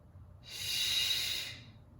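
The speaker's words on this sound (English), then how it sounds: "Keep breathing here." A single deep, drawn-out breath rises and fades, close and breathy, taken while holding a pose during an exercise flow, with no talking.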